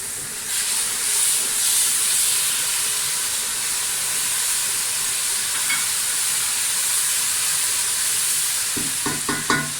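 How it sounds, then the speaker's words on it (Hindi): Steady loud sizzling and hissing from garlic paste in a hot pan, continuous throughout, with a few faint clinks near the end. "अब हम इसके अंदर डालते हैं लहसुन की पेस्ट।"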